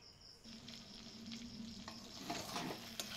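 Fried prawns tossed into a pan of frying taro stolons (kochur loti) give a steady, close sizzle with bubbling oil and stirring scrapes that grow busier toward the end, with no voices.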